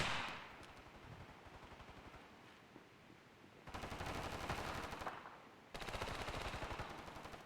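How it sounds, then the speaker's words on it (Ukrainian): Rapid bursts of automatic gunfire in the mobile shooter game Standoff, some steady background noise, then two loud sustained volleys of rattling shots, fairly close. "Хтось стріляє."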